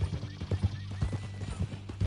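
Horse hooves clip-clop in a quick, steady rhythm in Red Dead Redemption 2, close and clear, with a low tonal hum under the footfalls.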